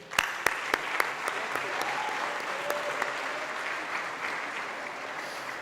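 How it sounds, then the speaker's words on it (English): A crowd claps steadily throughout, warm sustained applause with a few sharp individual claps standing out near the start. "they need a round of applause."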